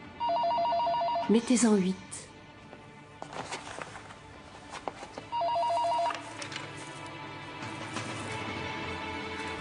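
A telephone bell rings loudly in two separate bursts, each a sustained electronic trill, with people speaking in French in between and around the rings.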